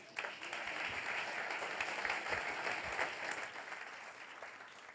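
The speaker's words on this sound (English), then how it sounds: "Please give her a warm round of applause." An audience at a chatbot conference applauds steadily as a woman walks up onto the stage, a dense, even wash of clapping from many hands that holds for the whole stretch before easing slightly at the end.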